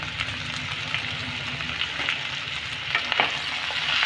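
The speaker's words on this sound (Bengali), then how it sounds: "পটল আর আলুটাকে ভেজে নেব, সেই জন্য এখানে আমি একটু সামান্য নুন দিলাম আর একটু হলুদ দিলাম।" Pointed gourd and potato pieces fry with salt and turmeric in a pan, producing a continuous close sizzle with occasional stirring scrapes and crackles and no speech.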